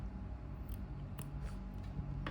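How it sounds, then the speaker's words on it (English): Scissors snipping yarn at a crochet table, a few faint, quick clicks of the blades over a soft low background hum. "And cut this yarn as well."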